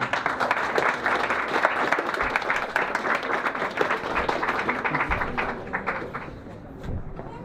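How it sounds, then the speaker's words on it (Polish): Sustained audience applause at a charity running event gathering, with many hands clapping in a dense, crackling rhythm that continues for several seconds before easing off near the end. "wielkie, wielkie brawa"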